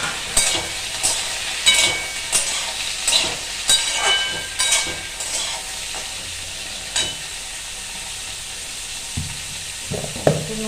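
Potatoes and pointed gourd fry in a pan with a steady sizzle, while a spatula stirs and scrapes in uneven bursts, with a few louder clatters near the end.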